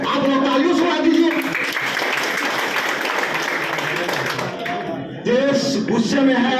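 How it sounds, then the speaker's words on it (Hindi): An audience at a political speech breaks into loud, sustained applause and cheering that fills the whole stretch, with a raised voice rising over the crowd at moments. "आप लोग तालियों से उड़ा दीजिए।"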